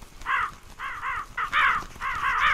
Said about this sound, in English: I think this should solve the problem with the crows.